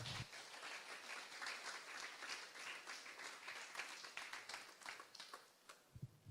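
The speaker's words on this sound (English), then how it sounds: "Give yourselves a round of applause" A conference audience gives itself a round of applause, faint and distant, with steady crowded clapping that thins into scattered claps toward the end.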